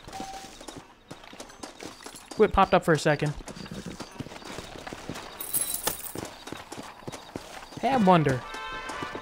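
Horse hooves clip-clopping in the PC version of the video game Red Dead Redemption, two short bursts of quick rhythmic hoof beats over game ambience, with someone talking intermittently.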